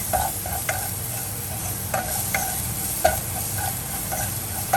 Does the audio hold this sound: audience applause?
no